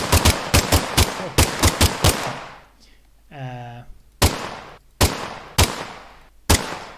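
Pistol gunshot effects for an Unreal Engine 5 third-person shooter game fire as a rapid burst of sharp, loud cracks, then pause briefly for a short voice before more spaced single shots ring out.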